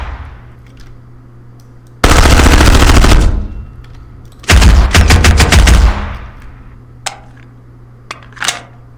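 An MP5 submachine gun firing in a video game, two loud close bursts of rapid automatic fire, the first about two seconds long and the second shorter, followed by a few faint clicks and single taps.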